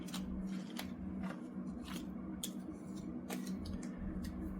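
Fortune-telling cards shuffled and drawn by hand, heard as a string of crisp flicks and snaps at an uneven pace over a steady low hum, close by and fairly quiet. No voices are heard.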